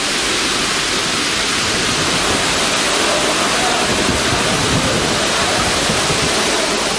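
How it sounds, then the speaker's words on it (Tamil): Rain-swollen waterfalls in the Kolli Hills of Namakkal roar as a dense, unbroken rush of water, loud and close throughout with no other sounds. "கனமழையால் நாமக்கல், கொல்லிமலையில் உள்ள அருவிகளில் நீர்வரத்து அதிகரித்துள்ளது."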